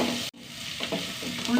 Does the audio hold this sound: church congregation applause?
no